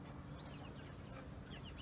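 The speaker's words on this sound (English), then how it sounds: "The chicks are doing really well under there." Soft clucking and faint peeping of chickens and chicks under a steady background hum, fairly distant and quiet.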